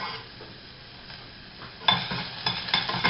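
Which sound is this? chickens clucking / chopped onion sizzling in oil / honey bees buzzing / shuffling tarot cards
chopped onion sizzling in oil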